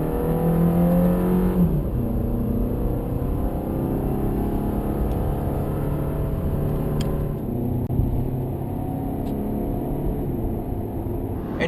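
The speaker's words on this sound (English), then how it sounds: "Let's hear what this boxer motor sounds like" A 2010 Subaru Impreza 2.5 with its boxer engine accelerates on a highway in sport mode, a steady, loud engine drone rising through the gears with harmonic tones and continuous road noise, no voices.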